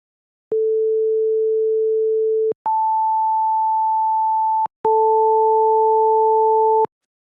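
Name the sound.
pure sine tones at 440 and 880 Hz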